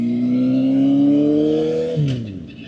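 A sport bike engine revs up close and loud, its pitch climbing steadily for about two seconds before dropping sharply as the revs fall away.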